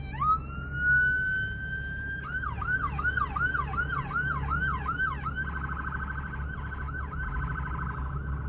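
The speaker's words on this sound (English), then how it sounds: "Now this ambulance has got to go clear across town." An ambulance siren rises into a long wail, then switches to a fast yelp and a warble pattern, loud and steady over background road noise, heard on a scanner-chasing drive through Cheyenne.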